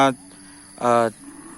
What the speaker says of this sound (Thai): วัวที่ผูกกินหญ้าอยู่หน้าตลาดนี้